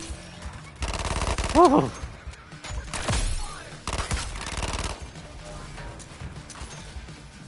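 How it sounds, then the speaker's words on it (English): Gunfire in Suicide Squad: Kill the Justice League, bursts of rapid automatic shots with crashes and impacts, broken by brief pauses, with voices and a shout over the action. "I'm shooting the target."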